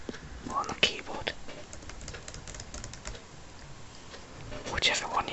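Soft whispering mixed with light, quick tapping on a computer keyboard, scattered clicks coming close and fairly quiet throughout.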